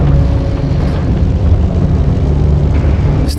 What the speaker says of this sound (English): the Avro Lancaster, hit by heavy Axis gunfire, is losing fuel and flight control